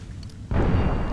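A grenade explodes in the Far Cry 3 video game, bursting in suddenly with a loud, close boom and a sustained roar that carries on after a quieter stretch of game ambience.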